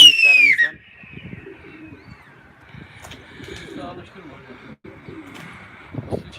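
Pigeons coo softly in low, repeated murmurs, with a brief high whistle at the start and muffled voices and movement around them.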